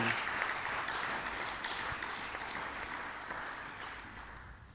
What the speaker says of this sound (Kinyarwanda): Tukomera Imana amashyi. Clap for God.